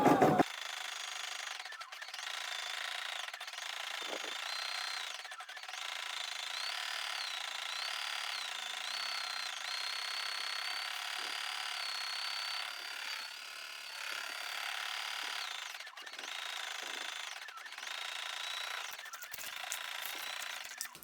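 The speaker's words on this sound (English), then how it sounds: "It's also telling you here how many stitches per minute it's working at" A POOLIN EOC05 embroidery machine stitching a red floral design, its motor running in a steady, continuous mechanical whir with rhythmic needle rattle and small shifts in speed, heard up close and alone.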